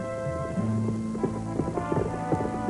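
Horse hooves clip-clop in a steady, close rhythm of hollow knocks over a sustained tonal background, with no talking.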